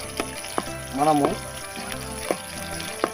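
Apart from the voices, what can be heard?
onions frying in a pan for fish curry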